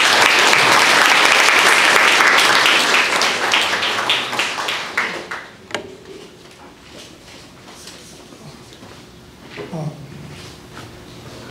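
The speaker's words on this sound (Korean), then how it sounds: "우리 다 함께 뜨거운 박수로 환영하겠습니다" A lecture audience applauds to welcome a KAIST guest speaker, a black hole researcher: dense, loud applause that thins and fades halfway through, leaving sparse claps and quiet room noise.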